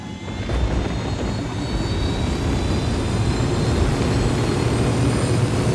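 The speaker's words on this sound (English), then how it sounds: "Let's hop in this chopper." A helicopter in the video game Ghost Recon Wildlands drones with a steady, loud engine and rotor roar that holds evenly throughout without pauses.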